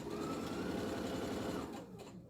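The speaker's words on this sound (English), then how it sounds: "I've taken all my bits that I've sewn together, and I'm just going to sew them together" A sewing machine runs fast and steady while joining jelly roll quilt strips, its close, even mechanical rattle carrying on for about two seconds before slowing to a stop.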